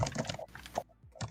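Rapid clatter of keystrokes on a computer keyboard, a quick burst of close, crisp taps with a short pause, heard alone without talking.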